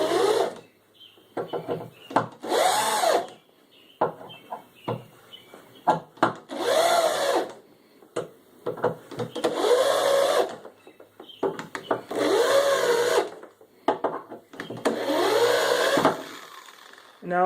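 Power drill driving bed bolts into a wooden box, heard as several separate bursts of whirring motor with short gaps between them, close and fairly loud.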